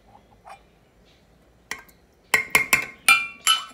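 Glass rattling as cream is stirred into butter, a handful of sharp, bright clinks in quick uneven succession, close and fairly loud after a quieter start.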